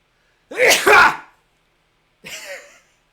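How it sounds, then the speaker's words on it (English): Two sneezes from an adult man, the first loud and forceful with a sharp double burst, followed after a pause by a shorter, softer second sneeze, close to the microphone with no other sound around them. "I just sneezed out my lung"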